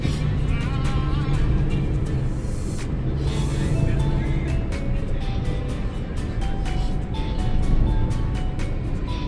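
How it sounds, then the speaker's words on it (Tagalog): Road traffic on the SLEX expressway in heavy, slow-moving conditions: a steady, loud rumble of car and truck engines continues throughout, with a few horn-like tones rising above it. "nandito po kami ngayon sa SLEX kung saan medyo matraffic"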